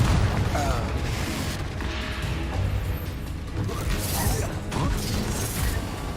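A Confringo spell explosion in the video game Hogwarts Legacy, with booming blasts and crashing impacts over dense battle noise, while a voice calls out over the action.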